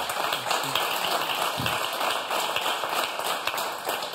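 A television game show studio audience applauds the contestants, a dense steady patter of clapping continuing throughout at a moderate level.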